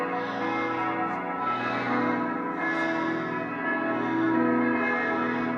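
Many church bells across Graz, Austria ring together on the hour, a rich sustained wash of overlapping chimes and strikes that keeps swelling and blending in the open streets, with no voices.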